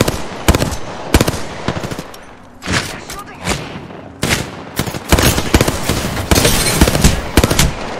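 Rapid automatic gunfire from an Apex Legends match, loud and close, coming in repeated dense bursts with brief pauses between volleys.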